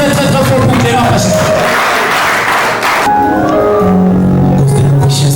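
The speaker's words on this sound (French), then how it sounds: "Applaudissons très très très fort pour Clément Pacha" An audience at a poetry competition semi-final applauds poet Clément Pacha, a loud dense wash of clapping and crowd noise in the first seconds that fades as a voice begins speaking over it.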